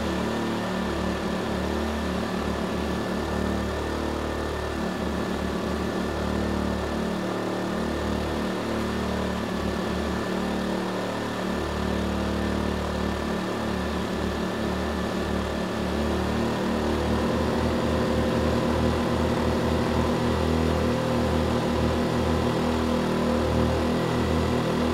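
An Erayak 4500PD inverter generator runs under a 4,500 watt load, its engine droning in a steady, even, fairly loud hum that holds throughout with a slight rise near the end. Nobody speaks.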